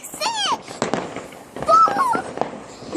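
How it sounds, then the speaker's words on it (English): New Year fireworks go off down a street, with whistling rising shrieks and sharp crackling bursts close by while people talk excitedly. "Oh look, there's fireworks down the street."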